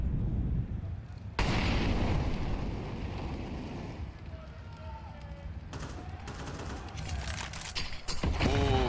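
A smoke grenade and a frag grenade go off in a Counter-Strike match, heard as hissing bursts and a sharp blast over game noise and a busy loud mix, with sustained broadband rumble and a couple of abrupt level jumps.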